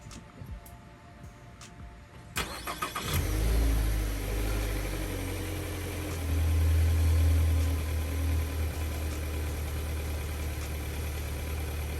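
A 2020 Nissan Altima SR engine cranks briefly and catches, surging loud before settling into a steady close idle with a second rise in revs partway through.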